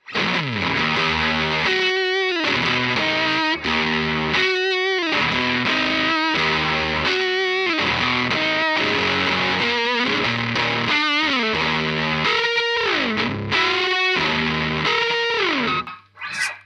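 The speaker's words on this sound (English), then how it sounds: "it's this really heavy fuzz kind of riff part, which sounds like this." Heavy fuzz-distorted electric guitar riff played through a strong noise gate, loud and alone, with chugging chords that cut off abruptly into silence between phrases and sliding notes throughout.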